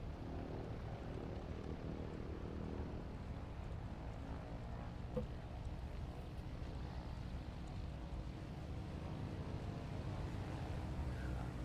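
A simulated aircraft taking off in Microsoft Flight Simulator during a short-takeoff competition, a steady droning engine and propeller roar that holds a constant level for the whole stretch with no voices.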